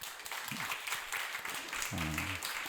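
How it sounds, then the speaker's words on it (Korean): A church congregation applauds steadily throughout, a dense wash of clapping with a few voices faintly heard underneath. "다시 한번 축복의 박수하겠습니다"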